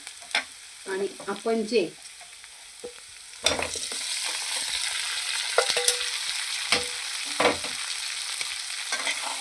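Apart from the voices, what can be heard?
green chillies being stirred and fried in pan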